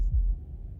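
A single low, muffled heartbeat thump from the game Slay the Princess, brief and close, fading into a soft low rumble.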